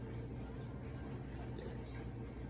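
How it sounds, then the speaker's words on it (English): Water is poured into a sourdough starter sitting on a kitchen scale, giving a faint, continuous trickling and dripping that runs unbroken for a couple of seconds, quiet and close, with no talking. "I'm just gonna pour in water until I get to 58 grams again"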